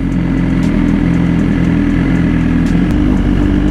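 BMW S1000RR sport bike engine running loud and close, a steady dense mechanical roar with no pauses.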